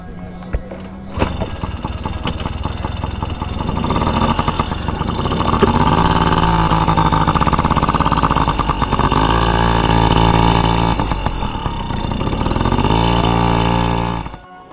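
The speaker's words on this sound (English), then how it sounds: "riding a motorcycle without training wheels" A young girl rides a child's motorcycle without training wheels, its small engine running steadily and loud up close for most of the ride, with a few brief revs and pitch changes before it cuts off at the end.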